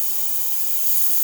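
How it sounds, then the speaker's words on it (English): Steady, loud hiss of steam streaming from the wand of a Quick Mill espresso machine with a thermoblock, a continuous airy rush for the whole moment with no voices. "Nice steady steam"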